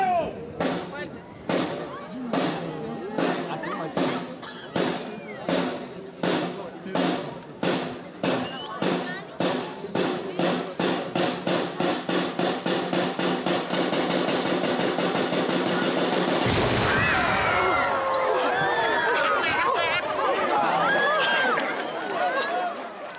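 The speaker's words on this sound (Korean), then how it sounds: "Excelencia, autoriza el disparo del cañón." A ceremonial cannon fired toward the sea in Cuba: after a steady run of rhythmic thumps, a single loud, booming blast erupts, followed at once by a crowd cheering and shouting.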